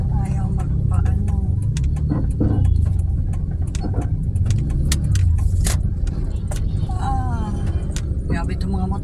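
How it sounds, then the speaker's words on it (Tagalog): Heavy road traffic in rain, with cars, motorcycles and a bus crowded together, forms a steady close rumble of engines with scattered sharper noises on top, and a voice talks over it. "Sobrang traffic po."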